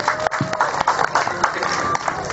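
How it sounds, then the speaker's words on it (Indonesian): Audience applause in a hall for Mael Ekspedisi at a relaxed talk session: dense, steady clapping from a crowd at moderate loudness, mixed with some faint crowd noise, for a couple of seconds. "Tepukan gemuruh untuk Mael Ekspedisi"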